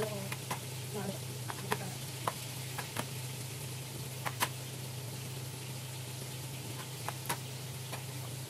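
Garlic fries quietly in a pan with a soft, continuous sizzle over a low steady hum, dotted with scattered faint pops and ticks.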